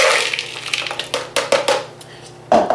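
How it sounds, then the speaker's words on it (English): Frozen blueberries, blackberries, strawberries and cherries tumble into a bowl in a run of hard clattering hits, close and fairly loud, with a heavier final pour near the end. "I've got 4 cups of frozen berry. It's blueberry, blackberry, strawberry, maybe some cherries. And I'm gonna dump them in a bowl."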